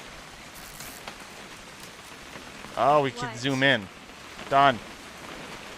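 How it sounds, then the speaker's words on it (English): Steady rain falls on surfaces in the video game What Remains of Edith Finch, a continuous soft hiss running throughout while voices talk over it partway through. "It's gonna rain the whole weekend, isn't it?"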